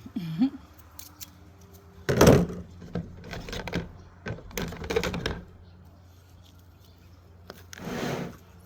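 Garden scissors cutting back winter-storm-damaged flower stems, a few crisp snips and clicks spread apart, with one louder rustling burst and brief handling noises between quiet gaps.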